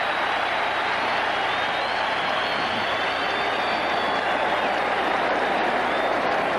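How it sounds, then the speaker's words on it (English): A 1981 Dodgers World Series baseball crowd applauds Ronnie Guidry, a dense, steady roar of clapping and cheering from a large stadium audience with no pause and no clear voice over it. "And the crowd gives Ronnie a hand."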